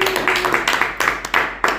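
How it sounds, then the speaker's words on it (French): A church congregation claps in quick, uneven rhythm, a dense run of close handclaps lasting under two seconds, fairly loud. "Applaudissons pour le Seigneur."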